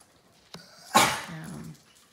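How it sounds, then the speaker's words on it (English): A dog makes a sharp click, then a burst of harsh, wheezy hacking that trails off into low rasping breaths, close by. "That's the dog choking up."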